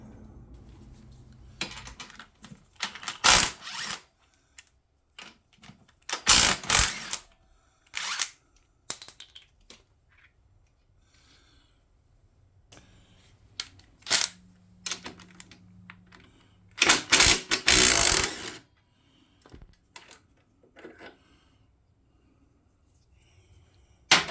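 Bolts being undone on a Honda GL1000 Goldwing motorcycle during engine removal: bursts of sharp ratcheting clicks and metallic rattles in clusters, separated by quiet pauses, close by with no talk.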